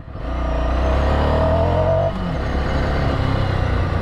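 A Ducati Scrambler Sixty2 motorcycle rides over dirt and gravel, its engine a steady close rumble with a slight pitch drop partway through, under continuous road and wind noise.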